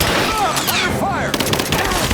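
Rapid gunfire erupts in a firefight in Rise of the Tomb Raider, a dense stream of loud shots and bursts with shouted voices mixed in throughout.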